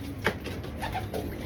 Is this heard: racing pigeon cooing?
yes